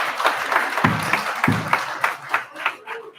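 Applause rises from the audience at a Boulder city council candidate forum, a short burst of scattered, uneven claps that thins out quickly.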